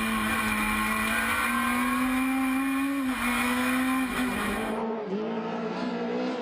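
A rally car is driven hard on a stage in the Canary Islands, heard from onboard as a loud, high engine whine holding steady, dipping briefly on shifts before the revs drop near the end.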